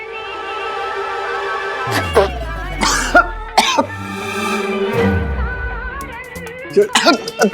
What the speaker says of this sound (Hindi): ये फिर से खांसने लग गया